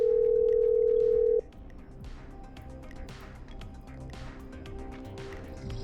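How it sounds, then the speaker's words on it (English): A telephone call placed in the video game Killer Frequency: a loud steady dial tone holds for over a second, then cuts off abruptly, leaving a quiet, faintly humming line. "I'm dialing."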